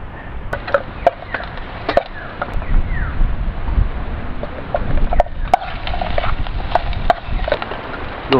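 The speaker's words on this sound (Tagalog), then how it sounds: "Lakas ng hangin." Steady gusting wind roars across an outdoor microphone at a beach campsite in Lian, Batangas, Philippines, with scattered knocks and clatters breaking through the rumble.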